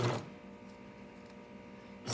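Sewing machine stitching fabric, a steady mechanical hum with a fine rapid stitching rhythm, running evenly at moderate loudness between louder bursts at the very start and end.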